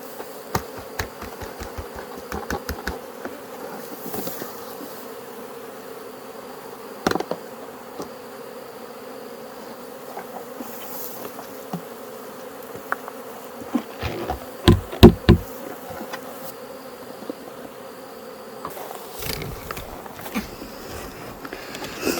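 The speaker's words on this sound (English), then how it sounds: "So these bees are Cordovan Italians." Cordovan Italian honey bees hum steadily near an opened nuc hive during a mite check, a close continuous drone broken by sharp knocks and taps from hive equipment.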